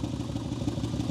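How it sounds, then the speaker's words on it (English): Exhaust of a BMW X6 with a fault, before repair: a steady, loud low rumble with a clattering, uneven pulse, heard up close and without talk. "this is what the exhaust sounded like before"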